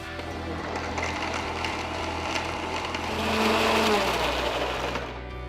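A kitchen blender whirs steadily as it blends milk, saffron milk and ice cubes for a summer drink. The motor is loud and close, rising in pitch and intensity near the end before easing off.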